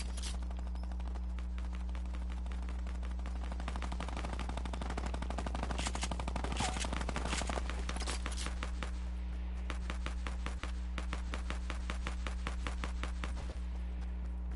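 Rapid bursts of weapon fire from a grenade launcher in a shooter video game, loud repeated thumping shots in quick clusters over a steady low hum.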